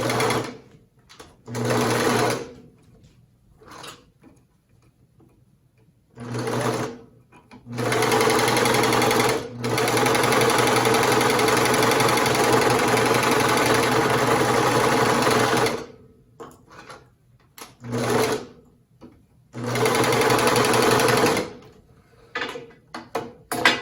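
A sewing machine stitches a cloth face mask in several bursts of rapid mechanical whirring, some short and one long run, separated by near-silent pauses, close and clear.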